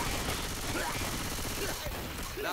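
Steady, dense gunfire from the Left 4 Dead 2 video game rattles continuously in a busy mix, with faint voices under the shooting.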